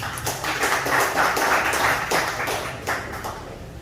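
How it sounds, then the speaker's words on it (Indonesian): An audience at an evening public discussion and charity event for Youth Pledge Day in Indonesia breaks into moderate applause. The clapping comes in rough bursts and trails off into scattered claps by the end. "Di tepuk tangan buat Mbak Melani Subono."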